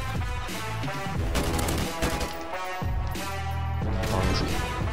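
AK-47 gunfire in Call of Duty 4, loud dense bursts of automatic fire with heavy impacts, layered over game music and effects throughout.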